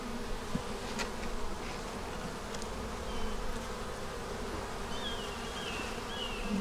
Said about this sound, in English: So those bees will go down.